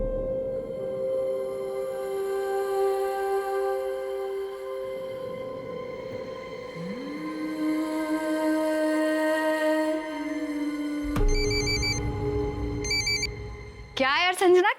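A telephone bell rings in a domestic scene from a Hindi crime drama, a steady sustained ring with a brief electronic tone near the end, quiet against the background.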